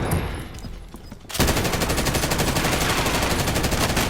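Rapid automatic gunfire in the video game Warzone, a dense continuous burst of shots that kicks in abruptly after a quieter moment and stays loud to the end.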